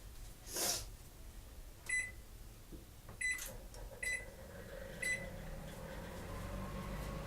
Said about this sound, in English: To preheat the oven